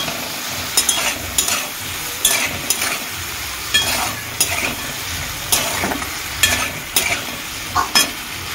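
Chili sauce is stirred into sizzling egg chili in a pan, a steady fry under repeated scraping spatula strokes and light metallic clinks in an irregular rhythm.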